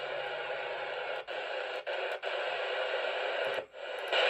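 Steady hiss of CB radio static on a President McKinley AM/SSB set with the high cut filter switched on, continuous and fairly quiet, broken by a few brief dips in level.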